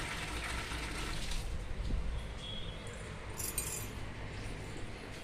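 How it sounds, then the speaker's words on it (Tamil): Water runs steadily from a pipe outdoors during light rain, a continuous soft rushing hiss at moderate distance with brief clinking touches and no voices. "தண்ணி வருது பைப்பில்."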